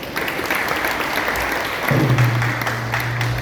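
Steady applause from a crowd at a lecture at ISKCON Toronto, a dense wash of clapping that holds throughout with a low hum entering partway.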